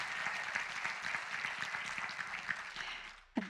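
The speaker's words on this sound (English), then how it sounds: "You can continue to clap" An audience claps steadily during an announcement about a local soccer team in Harlingen, a dense crackle of many hands that ends abruptly with a short thump.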